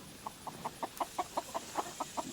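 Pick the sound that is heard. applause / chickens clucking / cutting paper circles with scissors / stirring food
chickens clucking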